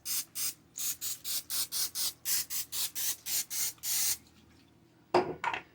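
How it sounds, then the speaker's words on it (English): Cooking spray hitting breaded chicken patties in quick repeated hissing bursts, about a dozen even pumps close by, followed by a brief clatter after a pause. "We're going to hit them with some cooking spray."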